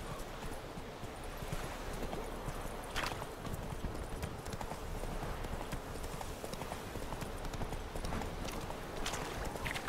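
Hooves clip-clop in a steady galloping rhythm from a horse in The Witcher 3 video game, loud and continuous for the whole stretch with a soft background bed.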